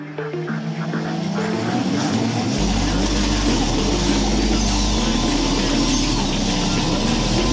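Race cars launching at the start of a race heat, a loud, close roar of several engines revving hard together with a sustained dense drone.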